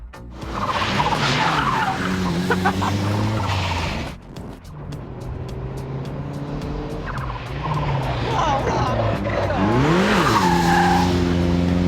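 A Honda car with a 1.2-litre naturally aspirated engine revs hard with rising and falling engine pitch and tire squeal, loud and close, as if being pushed on a track.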